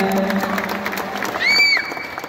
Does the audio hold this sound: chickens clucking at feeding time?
no